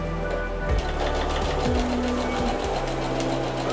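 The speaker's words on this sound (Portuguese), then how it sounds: "E vou costurar no risco." A sewing machine runs steadily, stitching along a marked diagonal line while making a bowl holder, with a continuous loud mechanical whir and small shifts in speed.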